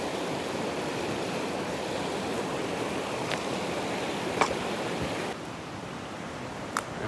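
Shallow creek water rushes in a steady, broadband roar close by, with a couple of faint sharp clicks over the flow and a slight drop in level near the end.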